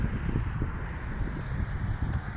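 Strong outdoor wind buffets the microphone in a steady low rumbling roar with gusty fluctuations, loud and close, with no voices over it.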